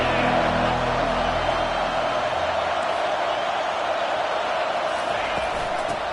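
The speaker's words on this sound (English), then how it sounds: "This crowd rising up, sensing that its defense needs some help." A football stadium crowd at a Texas–Oklahoma game swells into a loud, sustained roar, a dense wall of massed voices that stays steady throughout without breaks.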